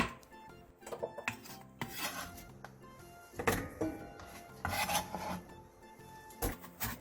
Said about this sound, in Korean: 오이 한 개를 길게 반으로 가른 뒤 3cm 정도 두께로 어슷썰기 해주세요